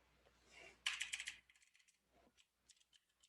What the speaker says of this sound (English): I can just type in